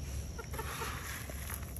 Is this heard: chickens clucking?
yes